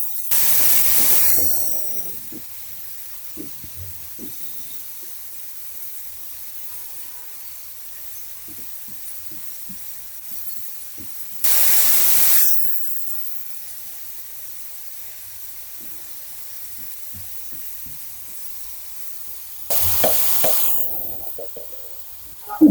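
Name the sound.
stirring and frying mung dal with cauliflower and spices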